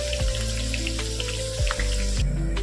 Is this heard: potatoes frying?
yes